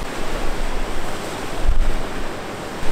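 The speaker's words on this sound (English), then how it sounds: "it's so cool to be back out in the waves and the ocean" Atlantic Ocean waves heard from a sailing trip near Delaware: a steady, broadband wash of surf mixed with gusty wind rumbling on the microphone, swelling slightly near the end, with no voices.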